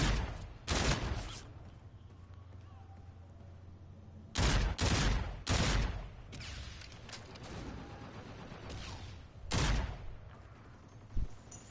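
Gunfire from a shooter video game bursts in a few loud, separate volleys with recoil, and quieter gaps fall between them.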